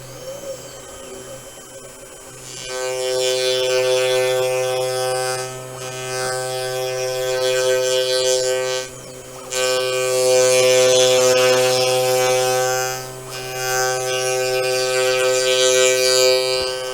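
A Sainsmart 4040 Pro CNC router cutting a wooden tenon, its spindle spinning at about 8,000 RPM, produces a loud, steady high whine with strong tonal harmonics, briefly dipping as the cutter moves along its path, with no voices.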